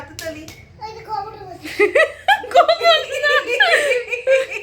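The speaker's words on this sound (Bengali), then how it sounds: "শুভ আইবুড়ো, শুভ আইবুড়ো, ক্ল্যাপ দাও ক্ল্যাপ। হাততালি তো বলো" Hands clap at a Bengali pre-wedding aiburo bhaat celebration with cake, the claps mixed in among lively talk, children's voices and chuckling from a nearby group indoors.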